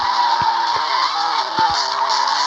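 Car in the video game Car Drifting skids through a drift, a steady loud tire-squeal and engine roar with a few low thumps, no speech over it.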